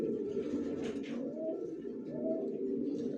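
Racer pigeons coo in a loft, a soft, low, continuous burbling of several birds close by with repeated rising coo phrases and no talking.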